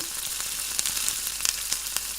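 Hot oil sizzles steadily in a very hot pan as pastries of yeast dough fry, with a constant hiss broken by small sharp pops and crackles.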